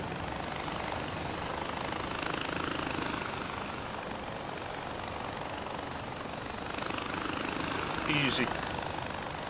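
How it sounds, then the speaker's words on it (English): A helicopter flies in the Far Cry 4 video game, its steady rotor and engine roar continuous and fairly loud throughout, with someone briefly speaking over it. "I take it I've got to go in this helicopter, have I?"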